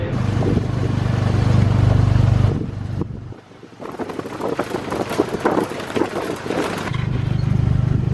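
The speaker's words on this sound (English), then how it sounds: "having taken the 15-kilometer tuk-tuk journey through a lot of the villages around Phnom Penh" Tuk-tuk ride along village roads around Phnom Penh, Cambodia: a steady small-engine drone with wind rushing over the microphone, easing off briefly mid-ride before building again, with no talk.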